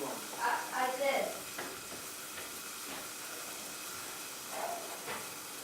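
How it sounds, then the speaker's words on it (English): Acid chemical reaction in a science project, sizzling and hissing steadily with steam while it smokes and turns black, with voices talking briefly over it early on and faint hissing throughout. "we're having a big chemical reaction. It's smoking."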